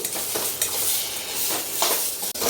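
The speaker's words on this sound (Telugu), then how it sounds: "ఇందులో మనం ఒక టొమాటో చిన్న టొమాటో వేసుకుందాం ఇవన్నీ బాగా వేయించుకోవాలి" Tomato and other ingredients fry in a pan for a uttapam breakfast, giving a steady close sizzle with brief stirring scrapes and a faint clink near the end.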